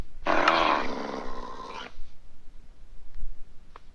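Minecraft cat mob gives one loud, drawn-out yowl lasting under two seconds, followed by quiet game background with faint clicks.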